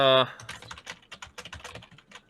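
Rapid typing on a computer keyboard, a quick uneven run of close, crisp key clicks that follows a short tonal beep at the start.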